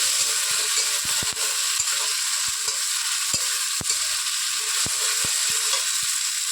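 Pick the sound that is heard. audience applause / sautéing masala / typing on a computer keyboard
sautéing masala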